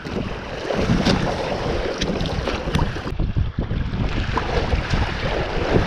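A Hobie Adventure Island kayak sails across open water in wind, with steady rushing wind noise buffeting the microphone and continuous splashing water beneath.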